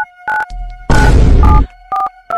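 Phone dial tones: short electronic beeps and a longer tone in quick sequence, loud and close, with no talk.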